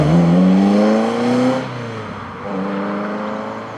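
A Michelotto Ferrari 308 Group 4 rally car engine revs loudly and close up, its pitch rising steadily before dropping back and settling into a lower, steady drone.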